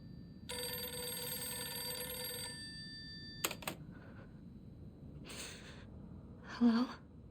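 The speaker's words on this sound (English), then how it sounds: "But then, the phone rang." In the Silent Hill f video game, a telephone rings with a sustained electronic trill, followed by a few clicks and muffled rustles, and ends with a faint voice.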